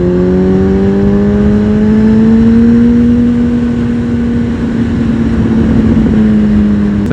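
A Honda Fireblade CBR 1000 RR Repsol motorcycle accelerates on the road. Its loud, close engine drone climbs steadily in pitch with a strong mid-range pull, then levels off briefly before rising again.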